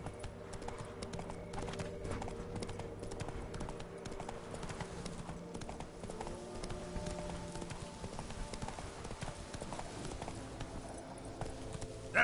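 Hooves of Roach, the horse in The Witcher 3: Wild Hunt, clip-clop in a steady ongoing rhythm beneath a continuous bed of game music and ambience, with no voices.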